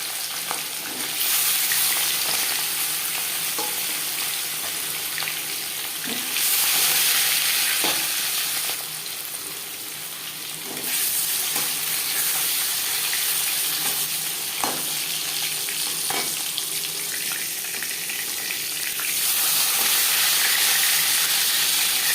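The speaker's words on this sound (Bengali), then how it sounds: "এবার দিয়ে দেবো লবণ হলুদ রাখা মাছ" Rohu fish rubbed with salt and turmeric fries in hot refined oil with a loud, steady sizzle that swells in bursts, punctuated by occasional clicks and scrapes of a utensil.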